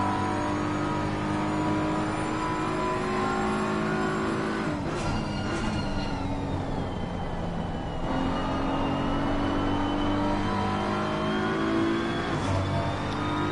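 An onboard race car engine on a flying lap at Silverstone in a PS5 racing game drones loud and steady, rising in pitch as it accelerates, dropping sharply at gear shifts and braking, then climbing again.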